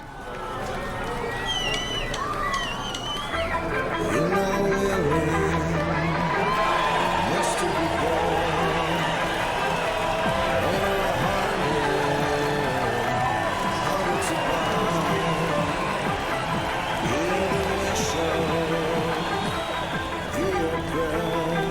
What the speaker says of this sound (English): we've got a bit of a crowd